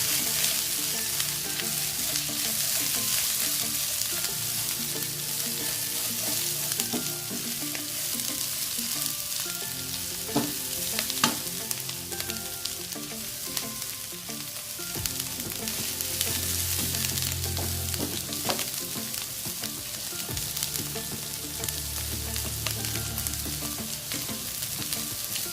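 Cabbage, carrots and capsicum sizzle loudly in a hot pan for chicken fried rice, a continuous frying hiss with scraping and clattering strokes of stirring throughout.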